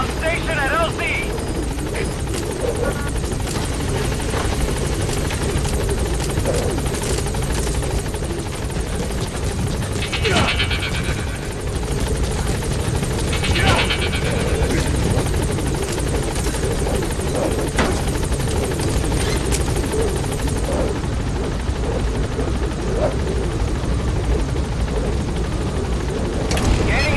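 Helicopter rotor and engine drone from a Metal Gear Solid V game scene, steady and loud at a landing zone for nearly thirty seconds, with radio-style voices speaking over it.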